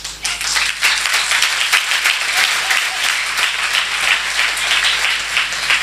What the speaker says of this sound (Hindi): कई लोग बस मुझे दिखाने के लिए तालियां बजा रहे हैं